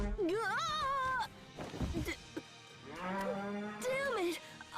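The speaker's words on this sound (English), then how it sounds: "Cows sure do make some really weird noises." A cow in the video game Tales of Graces f lets out loud, close moos that are drawn out and strangely wavering, with a rising, warbling pitch, separated by brief gaps of lower noise.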